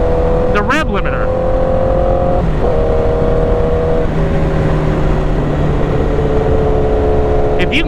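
A 1000cc motorcycle engine revs loud and close as it accelerates in first gear toward the rev limiter. Steady tonal whine climbs with a brief gear-like dip, and a voice talks over it.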